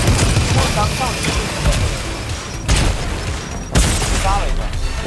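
Explosions and gunfire in a Fortnite match, with several sharp booms and bursts spread across the stretch over a constant mix of game noise.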